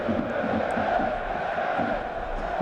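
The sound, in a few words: football crowd cheering after 1860 Munich goal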